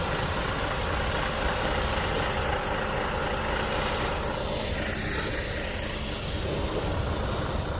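A truck fitted with a hydraulic loading setup idles in a small parking lot, a steady broadband engine rumble holding level throughout, with a faint passing whoosh partway through and no talk.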